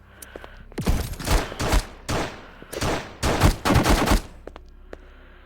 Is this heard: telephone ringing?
no